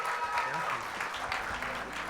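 An awards-ceremony audience in San Diego gives a round of applause, a steady, moderately loud wash of clapping with a voice faintly mixed in.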